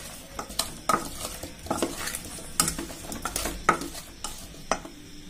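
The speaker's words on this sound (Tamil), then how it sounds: "நல்லா கிளறி விடுங்க." Amla (gooseberry) pickle stirred in a pot with mustard-tempered oil: a spoon scrapes and clinks against the vessel in a string of sharp strokes over a soft background sizzle.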